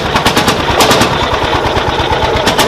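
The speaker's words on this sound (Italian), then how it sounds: "Il famoso celeberrimo Landini testa calda." A 1950 Landini hot-bulb tractor engine running at an outdoor bread festival, a loud, close, fast and steady thumping putter with no talk.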